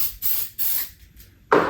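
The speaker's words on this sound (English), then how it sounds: "Give it a little spray on the round and through" Hornady One Shot silicone lubricant sprayed onto bullet rounds in short hissing aerosol bursts, three quick sprays followed by a louder one, close up.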